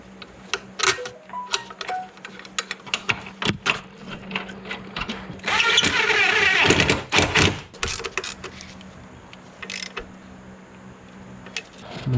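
Metal tools working on a Toyota Camry motor mount with a 1MZ-FE engine: scattered clicks, taps and clanks, then a few seconds of steady grinding or ratcheting, and more light clicks after it, all close by with no talking.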